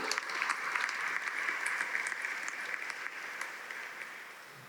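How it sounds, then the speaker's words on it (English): Steady applause from an audience, dense and sustained clapping that fades slightly toward the end, with no talking over it. "Please give them a round of applause."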